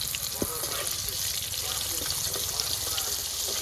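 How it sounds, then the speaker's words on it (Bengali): Chui jhal (Piper chaba) frying in hot oil, a steady, dense sizzle throughout with a few small pops, moderately loud and close. "এবার এই চুই ঝালগুলো আমি তেলের পরে দিয়ে ভেজে নেব।"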